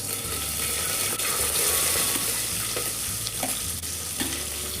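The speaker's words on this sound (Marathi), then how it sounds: "कांदाही चांगला भाजून घ्यायचा आहे." Onion frying in oil with cumin and whole spices for soya pulao, giving a steady, loud, close sizzle throughout with occasional soft stirring scrapes.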